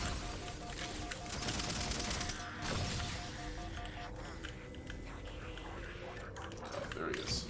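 Enemy gunfire in a sci-fi shooter game where a big green hero fights purple aliens, a busy mix of shots and effects running under game noise while someone talks.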